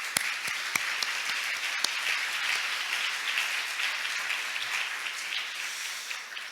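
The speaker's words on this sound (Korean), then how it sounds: "오늘 와주신 연사나 토론자 모든 분들께 박수 한번 보내주시기" A conference hall audience applauds the speakers and panelists at a Seoul international development cooperation meeting, a steady dense wash of clapping with a few sharper nearby claps, sustained throughout at moderate distance.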